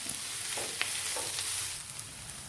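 Onions sautéing with curry leaves, ginger and garlic for chicken curry: a soft, steady sizzle with occasional scraping stirs and light taps, fairly quiet and close, with no talking.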